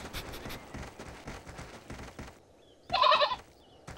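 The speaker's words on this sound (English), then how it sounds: "It's a mother goat with her children." A mother goat with her kids bleats once, a short, loud cry near the end after a stretch of rhythmic thumping background sound.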